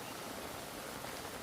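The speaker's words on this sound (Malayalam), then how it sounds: "മഴ ശക്തി കൂടിയപ്പോഴേ വെള്ളം ആ റോട്ടിൽ നിന്ന് കുത്തിയൊലിച്ച് വരുന്നത്" Heavy rain in Kerala sends water rushing down a road into a stream, a dense continuous wash of noise, faint and distant, with no voices.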